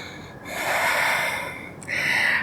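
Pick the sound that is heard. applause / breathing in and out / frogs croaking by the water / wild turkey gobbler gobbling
breathing in and out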